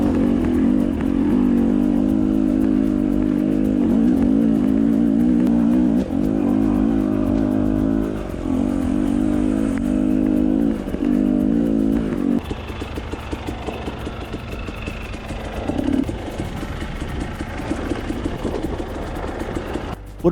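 A KTM 250 TPI two-stroke dirt bike ridden along a rocky single-track trail, its engine buzzing loud and steady with rising and falling revs throughout, close to the rider.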